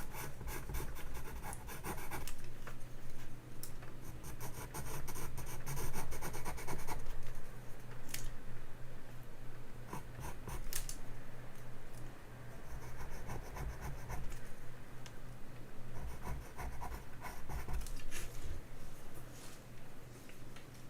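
Pastel pencils drawn across toothy paper in steady scratchy strokes, a continuous close rasping rub that rises and falls with brief pauses between passes.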